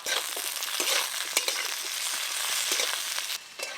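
Onion, capsicum and tomato stir-frying in a pan for chilli chicken, a steady loud sizzle with scraping stirs and occasional clatter of the spatula, no voices.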